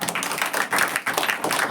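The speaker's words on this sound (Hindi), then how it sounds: "आइए हम लोग ताली मारेंगे।" A church congregation at an Easter resurrection service claps hands together, rapid dense applause with a steady rhythmic pulse, fairly close and continuous.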